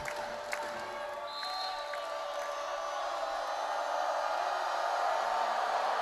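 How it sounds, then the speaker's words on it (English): Crowd at a road women's college volleyball match, Washington State at Oregon, holds a steady, broad roar of cheering at match point, building slightly louder toward the end with scattered whoops. "Crowd making noise."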